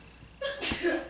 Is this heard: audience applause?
no